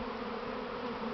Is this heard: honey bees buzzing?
yes